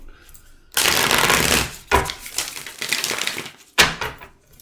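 Tarot cards being shuffled up close in several crisp riffling bursts, each a rapid flutter of snaps, separated by short pauses.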